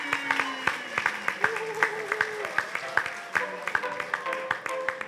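Scattered applause from an audience at the Miss NC 2020 pageant as the jury president is called up, sharp individual claps over a background of voices and music, moderately loud.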